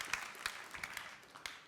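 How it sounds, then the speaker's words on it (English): An audience at a PhoneGap Day EU 2016 conference talk gives brief, faint scattered clapping in a hall, a handful of separate claps rather than a full ovation. "Already an applause."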